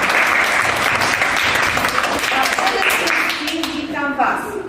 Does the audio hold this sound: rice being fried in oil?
no